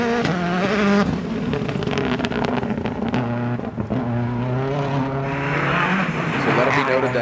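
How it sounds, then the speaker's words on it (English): Rallycross race car at Utah Motorsports Campus during a Nitro RX event, its engine and exhaust note droning steadily with shifting revs and gear changes, loud and close throughout, with crowd or commentary noise mixed underneath. "let's lay back and listen to the sound of the sports and listen to the exhaust note of Timmy Hansen, your number one qualifier"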